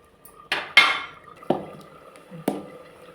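Metal clatter as a lid goes onto a cooking pot of prawn and potato curry: several sharp, ringing clanks and knocks at close range, spaced unevenly, with no voices.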